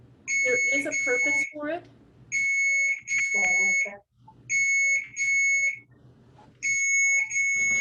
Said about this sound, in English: There is an alarm going off somewhere.